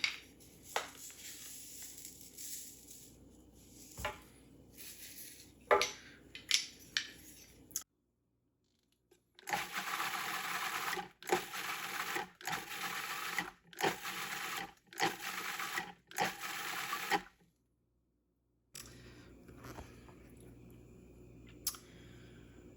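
A blender whizzing chimichurri sauce of cilantro, parsley and salt, heard as short, loud, whirring bursts separated by brief pauses and silence, close up, with no voices.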